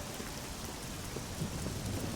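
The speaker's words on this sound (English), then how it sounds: "Oh, I've had enough of this rain." Steady rain falls in the video game Oblivion, a dense, even hiss of drops with low rumbling underneath, quiet and continuous with no voices.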